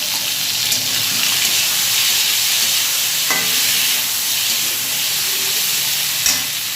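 Ground lentil paste being mixed with turmeric by hand, a continuous wet squishing and stirring texture with a couple of brief louder knocks, and no voices.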